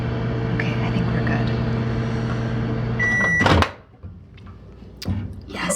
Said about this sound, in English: you could also heat it up in a saucepan on the stove, but I just use a microwave